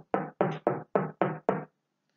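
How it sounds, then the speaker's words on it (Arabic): Six crisp knocks on wood in a quick, even rhythm, hollow and close, followed by silence. "سوف أطرق الآن على صوت الخشب وتسمعون صوت الخشب"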